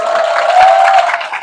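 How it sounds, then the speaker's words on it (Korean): Audience applause at a one-day seminar, dense clapping from a crowd filling the room steadily from start to finish with no voices on top. "박수 한번 부탁드리겠습니다."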